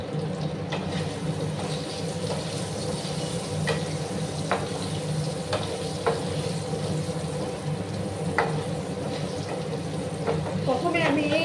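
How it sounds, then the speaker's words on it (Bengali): Potato pieces fry in hot oil in a pan with a steady sizzle, while scattered clinks and stirring scrapes rise above it and a brief clatter comes near the end. "প্রথমে আমি আলুগুলোকে একটু লাল করে ভেজে নিচ্ছি"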